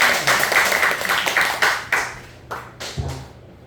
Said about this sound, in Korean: 그 예수님께 영광의 박수 올립니다